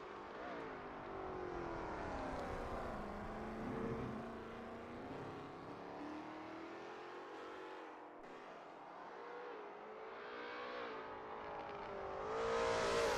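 A Lola T70 MkII Spyder race car in a video game runs a flying lap at Road America. The engine howl is smooth and continuous and fairly quiet overall, with pitch rising and falling through gear changes and a final surge in revs.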